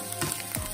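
Bitter gourd fries in a pan with coriander leaves being stirred in, a steady close sizzle broken by a few scraping stirs.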